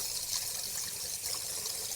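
Hot water running from a tap during a beer keg change, a soft steady hiss and trickle, faint and continuous with no talking.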